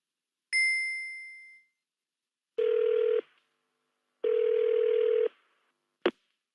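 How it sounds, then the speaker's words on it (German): A telephone answering machine sounds a bright ding, then two longer electronic beeps and a short click before a recorded message, each tone clean and isolated in silence. "Hier ist der automatische Anrufbeantworter"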